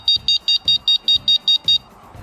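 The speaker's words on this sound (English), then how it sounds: "So when you lock, it will beep when someone just push it." Zectron e-bike lock alarm set off by pushing the locked bike: nine sharp, evenly spaced high-pitched beeps in quick succession, loud and close, with faint thumps underneath and then silence.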